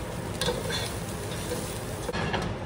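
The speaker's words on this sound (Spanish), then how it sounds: "Voy a dejar que se dore poquito la carne, pero voy a estar moviendo constantemente para que se cocine bien por los dos lados." Pork pieces browning in a pan, stirred constantly, with a steady sizzle and repeated scraping strokes of the spoon close up for a few seconds.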